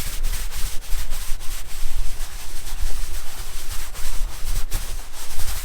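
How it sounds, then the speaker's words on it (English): A brush scrubs soapy suds over the fabric soft top of a JL Jeep Wrangler, producing close, rhythmic rubbing strokes that pulse steadily without speech. "Then I'm just going to give it a real quick scrub like this. Suds it up."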